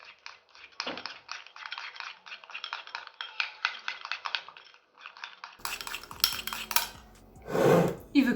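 A utensil stirs a marinade of mustard and honey in a dish, making quick, rhythmic light clinks and scrapes against the bowl, followed by louder clattering.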